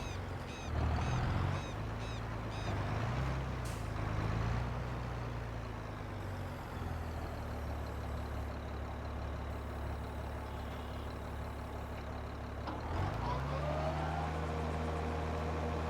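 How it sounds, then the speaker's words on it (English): Tractor engine in Farming Simulator 22 droning steadily at a low pitch, with a few shifts in revs and a brief rise near the end, heard alone. "I'm using my tractor, I'm not using the one from the contract."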